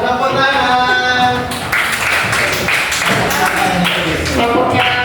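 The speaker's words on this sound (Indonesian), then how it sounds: "Silakan tepuk tangan." A group of people clapping their hands, loud and close, in an uneven patter of taps and claps that continues throughout, mixed with voices.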